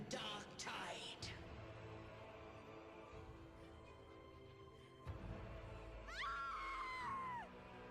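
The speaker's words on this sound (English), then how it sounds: "that scream" A character screams in the Wuthering Waves video game, a loud burst at the start with a later rising, wavering cry over low background music.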